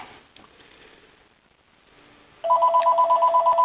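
A telephone rings in a workshop while a fishing fly is being tied, its pulsing electronic tone starting abruptly after a quiet stretch and repeating in steady, loud rapid bursts.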